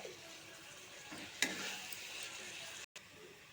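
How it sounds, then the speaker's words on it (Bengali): Chili and cumin powder are sautéed in a pan for a meat curry. A faint, low sizzle runs throughout, and a single sharp clink of a utensil on the pan comes near the middle. "মরিচের গুঁড়া, জিরা পাউডার দিয়া দিতেছি। এখন ভালো করে কষাই নিব।"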